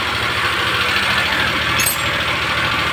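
A Suzuki Multicab with an F6A engine idling high, a steady, close, unbroken mechanical drone with no variation in level.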